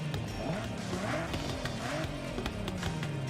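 Drift car engine from a Forza racing game, a steady low purring hum with slowly shifting pitch, close and continuous, with light game noise around it.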